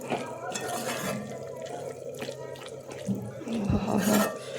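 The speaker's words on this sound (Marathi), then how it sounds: "मी थोडंसं पाणी घालणार आहे. ते पण गरम पाणी करून घालणार आहे." Hot water pours into a pan of mixed vegetable curry with peanut-sesame filling, a steady watery splashing with a brief louder gush near the end, faint voices nearby.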